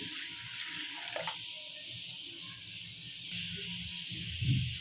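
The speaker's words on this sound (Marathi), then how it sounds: "याच्यामध्ये मी शिजण्यासाठी पाणी ॲड करत आहे" Water poured into a pressure cooker holding whole mung beans, a steady splashing wash of moderate loudness running through the clip, with a few clinks near the start and a thud near the end.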